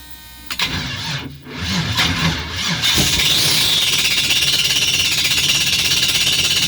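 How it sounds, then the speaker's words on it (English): The starter cranks a Nissan Altima with a swapped LS engine, a loud, close, rapid mechanical churning that stutters briefly, then settles into a steady chugging crank that keeps going without catching. "I've got to get this damn starter to work, and it's giving me a hard time, so let's try this again"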